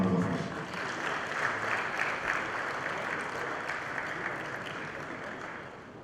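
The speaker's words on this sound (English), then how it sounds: "Please give him a round of applause." An audience at a corporate event applauds the managing director and CEO of Airtel Nigeria. The clapping is steady and diffuse, fairly faint and far off, with no one talking over it.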